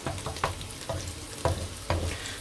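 Onions sautéing in a pan for a Portuguese-style cuttlefish and squid sauce: a soft sizzle under repeated scraping stir strokes, roughly every half second, close and moderately quiet.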